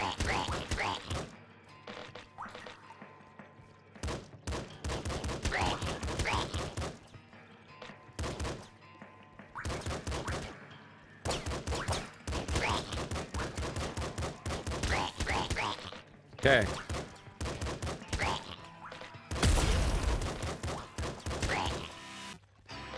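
Assault rifle fire in the video game Nuclear Throne: repeated rapid bursts of gunshots in clusters separated by short gaps, loud and punchy throughout, with a brief spoken word at one point.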